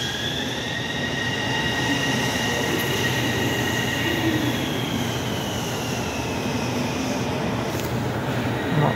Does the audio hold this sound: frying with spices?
no